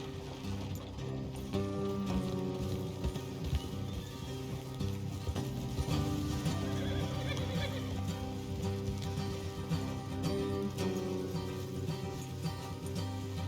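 Horses whinny and their hooves clip-clop on a road in the Red Dead Redemption 2 video game, set against a continuous soft bed of game music and ambience, with neighs recurring at moderate level.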